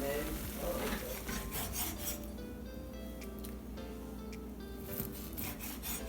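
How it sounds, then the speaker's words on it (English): A knife slices through a rested steak with a steady rasping, sawing scrape, close and moderately loud, alongside faint clinks and background kitchen hum. "Now we're just cutting our steak now that it's rested."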